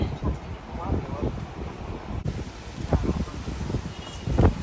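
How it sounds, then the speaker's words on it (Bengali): Strong wind roars steadily and close during a heavy rainstorm, a dense, gusty rush with rustling that swells and fades over a few seconds. "হেবি জোরে হাওয়া দিচ্ছে"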